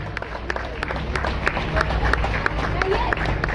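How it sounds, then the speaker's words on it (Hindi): Applause from a crowd at a campaign event, scattered claps over a steady murmur, with a voice speaking over the top. "तालियां एक बार जोरदार।"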